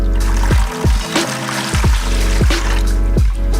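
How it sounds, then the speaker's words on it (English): Water is poured from a one-liter filter bottle into a bucket, a close, continuous gurgling pour with rhythmic glugs as air enters the bottle. "fill it up to the top and pour it into your bucket as your water part of the mixture"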